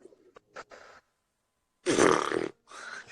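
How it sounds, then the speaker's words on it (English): A loud, rasping fart bursts out for about half a second, preceded by a few short, quieter sputters and followed by a softer trailing blat, all close to the microphone. "That's a fart noise. That's an audible fart."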